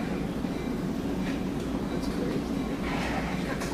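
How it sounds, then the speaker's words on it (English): Train at a pedestrian crossing with gates, a steady loud low rumble and rolling wheel noise close by, with people talking over it. "The train hasn't even stopped."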